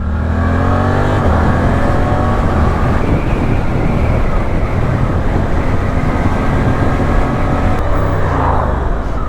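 A 2023 Suzuki GSX-8S motorcycle accelerates hard with loud, continuous engine roar and wind noise. There are brief dips in the tone where quickshifter gear changes cut in, near the start and again near the end.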